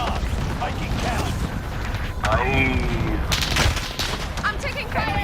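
Scattered gunfire and mechanical weapon clatter from a shooter video game, loud and close, with bursts layered over game voice chatter and effects.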